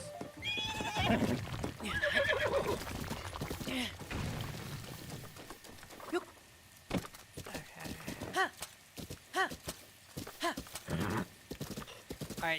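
In Breath of the Wild, a horse whinnies with shaky, wavering calls over rhythmic hoof clip-clops, then several shorter neighs and snorts follow; close and clear, with no clear speech over it.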